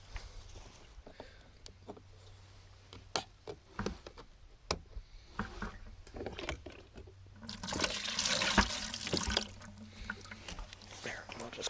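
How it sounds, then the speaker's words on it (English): Diesel fuel pours into a 1985 Mercedes 300CD, starting as scattered drips and splashes, then becoming a steady, louder gushing stream in the last few seconds, with a person speaking at times. "I'll give her one more splash of diesel, just to be extra safe."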